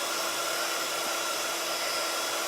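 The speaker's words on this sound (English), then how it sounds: "So can you guys still hear me while I'm drying with the heat gun?" Heat gun blowing hot air to dry a mixed media canvas with wax, a loud continuous roaring hiss that fills the whole stretch with no talk over it.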